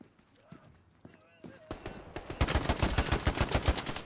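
Gunfire in the World War II shooter Hell Let Loose, a rapid automatic burst that grows louder over the last second and a half after scattered quieter shots, with game noise underneath.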